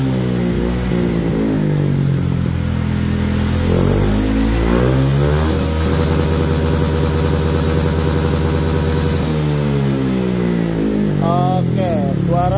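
A Honda Vario 160 motor scooter engine revs hard through a loud SKR Racing aftermarket exhaust, rising and falling in pitch over several sustained throttle blips, close to the microphone.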